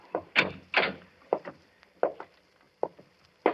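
A door in a cellar creaks and knocks open with a cluster of wooden clunks and scrapes, followed by several short, sharp knocks and footstep-like thuds spaced irregularly, fairly close in a quiet room.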